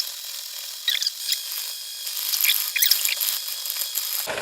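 An electric mixer runs on low speed through dry ingredients, producing a steady high whirring drone with faint scraping as the beaters turn in the bowl, close and continuous before cutting off at the end.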